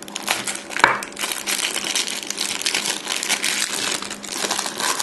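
Plastic wrapping crinkling as a Tesla vape mod is unwrapped, a close, continuous crackle of crumpling film with bursts of louder rustling, no talk.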